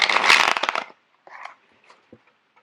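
A deck of tarot cards is shuffled close by: a quick fluttering riffle lasting under a second, then a few soft, scattered card taps and slides in near silence.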